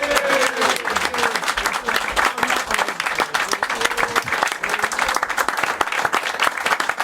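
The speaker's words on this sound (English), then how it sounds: "Give me a round of applause." An audience gives a round of applause at the end of a football TV show, with dense, steady clapping that carries on loudly for several seconds.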